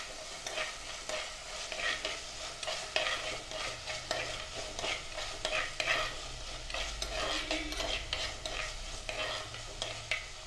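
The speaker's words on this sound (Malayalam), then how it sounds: "ഈ ഒരു സമയത്ത് നമ്മൾ ഇഞ്ചിയും വെളുത്തുള്ളിയും കൂടി ചതച്ചതും കൂടി ഇതിലേക്ക് ചേർത്ത് കൊടുക്കാൻ" Crushed ginger and garlic go into a hot frying pan for a Kerala-style sardine chili curry, giving a steady crackling sizzle with repeated stirring scrapes throughout, close up and with no talking.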